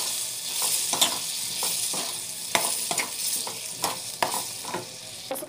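Spinach greens stir-fried in a pan with asafoetida, a bright, close sizzle broken by repeated sharp scraping strokes of a spoon at an uneven rhythm.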